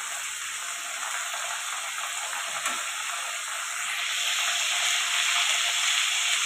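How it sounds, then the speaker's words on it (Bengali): Pieces of tilapia fry in hot oil, giving a steady, moderate sizzle that swells slightly louder toward the end, with a few faint clinks and no talking. "এখন দেখো আর এক পিস করে মাছটাকে আমি ভেজে নেব।"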